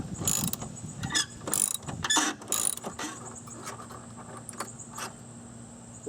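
Wrench working a 15 mm nut loose on a DE pool filter's top bracket, a few close metallic ratcheting clicks and clanks in bursts, then fading to quiet handling noise.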